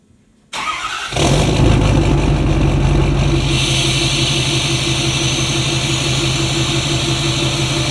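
A 2014 Ford F250 with a 6.7 Powerstroke diesel, freshly deleted, cranks briefly, fires up loudly and settles into a steady, rumbling idle close by.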